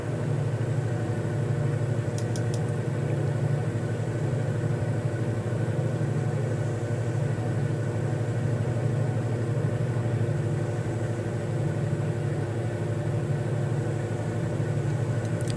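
Aircraft engine in Microsoft Flight Simulator 2020, a steady droning hum with a constant low rumble that holds evenly throughout, heard alone.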